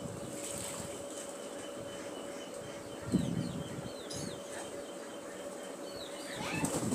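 Domestic pigeons on a farm in Assam flutter their wings in a couple of short bursts against a steady outdoor hum and wind, with faint chirps scattered through the background.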